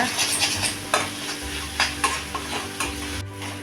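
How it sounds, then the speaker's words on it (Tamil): Broad bean and egg stir-fry stirred in a pan on the stove: a steady sizzle with repeated scraping strokes of the spatula, close and moderately loud, with no voices. "இதை நல்லா ஒன்றோடு ஒன்று கிளறி விட்டுக்குங்க."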